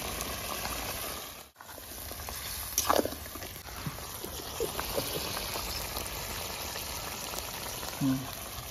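Pabda fish simmering in a light gravy for mustard pabda, a steady soft bubbling hiss throughout with a few faint clinks and knocks nearby.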